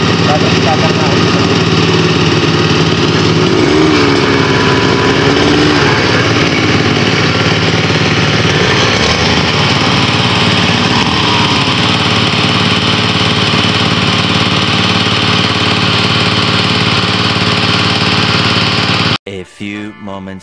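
A Robin gasoline grass cutter engine runs loud and steady on a farm, droning continuously at close range before cutting out abruptly near the end.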